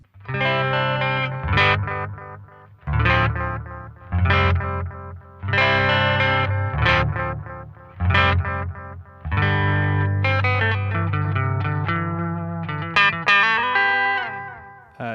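An electric guitar runs through a Boss DM-2W Waza analog delay pedal in standard mode, loud distorted chords and riffs in bursts, each followed by repeating delayed echoes trailing away.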